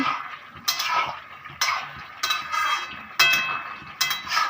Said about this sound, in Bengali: এবার সামান্য একটু হলুদ দিয়েছিলাম বলে আবার নাড়ছি।